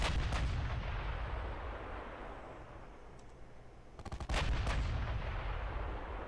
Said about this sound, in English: Oh, we're already firing at something.